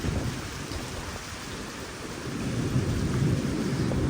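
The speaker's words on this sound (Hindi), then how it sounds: "बारिश हो रही है" Steady monsoon-season rain falls with a dense, hissing patter and a low rumble underneath, swelling slightly louder toward the end.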